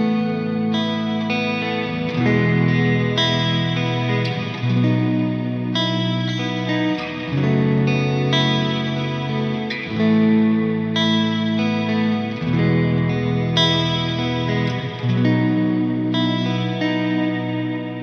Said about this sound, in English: So it sounds like this on the Big Sky,